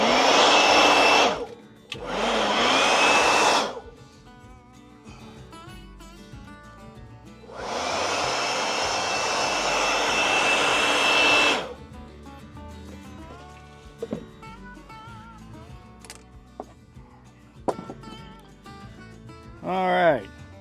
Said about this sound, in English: Let's get the blower out and clean this up for a second.